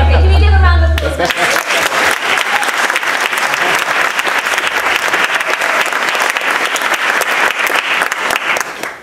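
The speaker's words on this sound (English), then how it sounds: "can we give a round of applause?" A lecture audience gives a loud round of applause after a brief sound at the start. Many hands clap in a dense, steady roar that holds close and strong for several seconds before tapering off.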